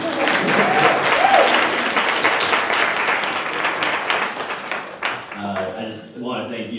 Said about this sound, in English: All right, start clapping.